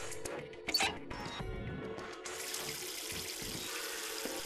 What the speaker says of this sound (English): If I twist the knob, water comes out of the faucet.